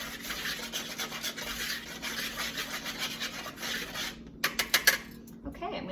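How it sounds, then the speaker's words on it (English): Oatmeal muffin dry ingredients being whisked together in a bowl, a steady close scraping rasp that runs continuously, then breaks into a few sharp separate taps of the whisk near the end. "And then I'm going to whisk these all together."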